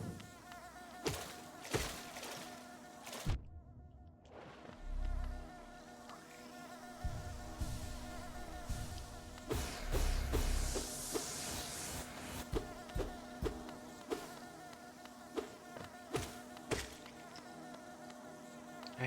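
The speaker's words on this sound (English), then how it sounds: "I hate hurting those little bees." Little bees in Hollow Knight buzz steadily through the stretch, a continuous insect drone mixed with scattered sharp hits and thumps from the game, with no talking.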